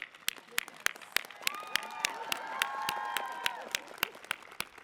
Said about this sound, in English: if the students are going to start clapping